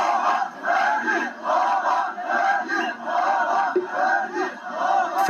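A large crowd of mourners at Ferdi Tayfur's funeral chants "Ferdi Baba" in a steady, repeated rhythm, the voices swelling and falling together over several seconds, in the rain.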